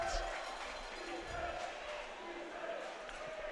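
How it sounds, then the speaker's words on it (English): At a boys' high school soccer semi-final, a distant crowd claps and rings cowbells in a steady wash of noise, with a commentator's voice on top. "A lot of clapping, a lot of cowbells."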